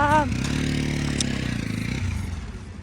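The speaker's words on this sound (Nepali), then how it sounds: "बाइक पार्किङ भइरहेको छ" A motorcycle engine idles and rumbles close by as it is parked in a crowded bike parking area, with a brief higher whine at the start and some clatter, then fades slightly as it settles.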